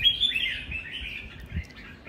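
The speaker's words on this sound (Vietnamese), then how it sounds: "Một con chim chưa khai thác mà nó chơi như thế này" A songbird kept as a competition bird sings close and clear, quick chirping phrases rising and falling over about two seconds with no talking.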